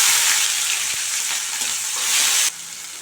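A large, finely chopped onion fries in a pan for a Tamil appalam kootu, sizzling loudly and steadily while a spoon stirs it, then the hiss eases slightly near the end.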